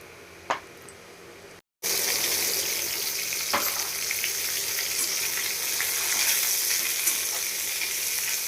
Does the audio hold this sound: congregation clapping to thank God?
no